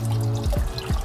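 Water poured onto an Injen Hydroshield filter cover, a close trickle and splash with a few quick dripping plops.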